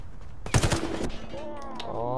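A grey-rarity assault rifle fires in the online shooter Warface, a quick close burst of several rapid shots, followed by ringing tonal game sounds and a voice speaking underneath.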